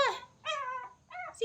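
A pet puppy whimpers and yips indoors in short high whining bursts, three separate cries close to the microphone.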